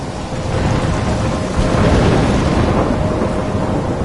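A thunderstorm with rain from the video game Life is Strange: heavy rain roars steadily and loudly throughout, with thunder rumbling underneath and swelling near the middle. No voices are heard.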